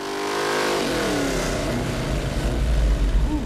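A 383 Chevy stroker small-block V8 revs hard to 6,000 rpm on a dyno, pitch climbing steeply then holding a loud, rumbling roar with a deep throbbing low end.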